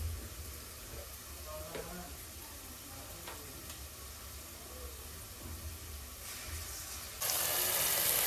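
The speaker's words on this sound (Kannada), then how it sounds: "ಜಿಂಜರ್ ಗಾರ್ಲಿಕ್ ಪೇಸ್ಟನ್ನು ಆ್ಯಡ್ ಮಾಡ್ತಾ ಇದ್ದೀನಿ" Ginger garlic paste frying in hot oil while being stirred for a veg soya kofta curry, a steady close sizzle with soft stirring scrapes, growing louder and brighter near the end.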